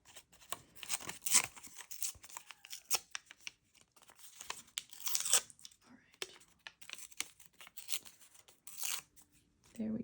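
Scissors snip through scraps of vellum paper for a junk journal lace-and-label embellishment, giving a string of crisp, close cuts and crinkles with quiet gaps between them.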